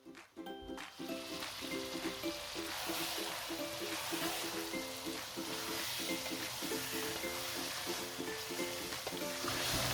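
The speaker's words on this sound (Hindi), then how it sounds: "मीडियम हीट पे इसको भूनेंगे।" Chicken korma frying in a pan over medium heat, a steady close sizzle that runs unbroken from start to finish, with a faint tonal layer underneath.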